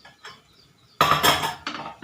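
A spoon scraping and clinking against a pressure cooker as whole masoor lentils are taken out, a faint clink early on, then a loud burst of metallic scraping that fades and returns briefly, close by.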